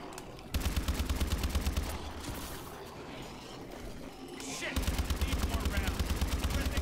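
Rapid automatic gunfire from the video game Exo Zombies, sustained bursts of shots at the start and again near the end, with a quieter gap of other game sounds between.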